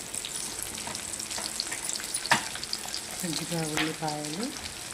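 Badi, chopped onions and curry leaves fry in a pan, a steady close sizzle with a few stirring knocks, while a brief tonal chime sounds in the background near the end.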